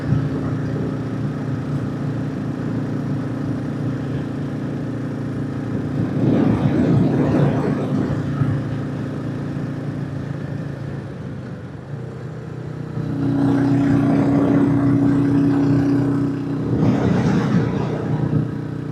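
A Royal Enfield 350 motorcycle climbs a hill road with its engine droning steadily near the mic, swelling louder in two stretches as the rider opens the throttle, with wind noise over the engine.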